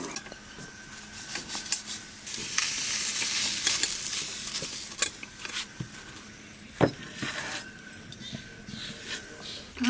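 Prawns fry in a pan at home, a steady close sizzle and spatter with occasional stirring scrapes and a sharp clack of the utensil, continuous for the whole stretch with no talk.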